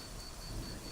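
Steady rain drumming on a roof as a background effect in a Sinhala ghost story, a continuous dense hiss and patter with no voices.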